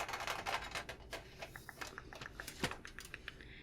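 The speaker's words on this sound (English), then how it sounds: "have to be very careful with this tin because it can be very loud" Quiet, close clicking and light metallic tapping, a quick irregular series of small knocks as a metal pencil tin is handled.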